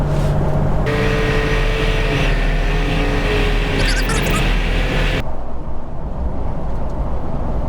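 Continuous loud rumble of tires on rough pavement heard from inside a moving 60 Series Land Cruiser, steady and droning, with a brief shift in tone near the end.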